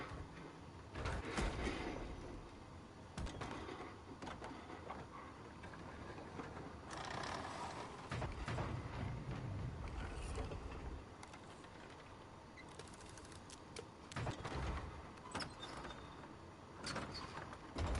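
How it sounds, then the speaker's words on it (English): A squeaky wooden stop effect from the game Dreams plays as a long run of creaks, knocks and rattling bumps, repeated irregularly and quietly over a low hum, with no speech. "Squeaky wooden stop."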